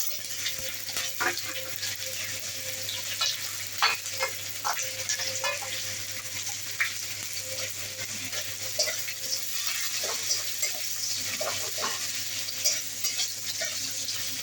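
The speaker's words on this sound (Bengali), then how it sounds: "একদিকে শাক ভাজা আর একদিকে উচ্ছে ভাজা।" Onion, kalmi greens and bitter gourd frying in a pan with garlic and green chilli, a steady close sizzle with scattered stirring scrapes and clicks throughout, no voices.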